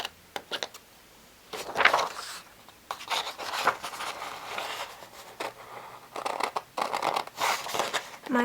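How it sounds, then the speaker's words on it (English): Scissors snipping through paper in short bursts, close by, with pauses between cuts and light rustling. "And now I'm going to use these scissors to cut it."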